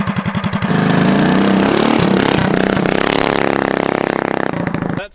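A motorcycle engine idles steadily and loudly up close during a tachometer setup, with an even, pulsing putter that holds for several seconds before cutting off.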